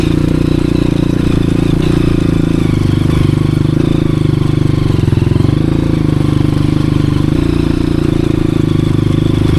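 A Honda CRF 230F dirt bike engine drones loud and steady on a mountain trail, a continuous close-up rumble with slight rises and dips throughout.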